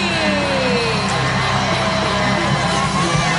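A wrestling arena crowd at TNA Lockdown 2012 roars and cheers continuously for Jeff Hardy's entrance, a thick, loud sustained din with no talk.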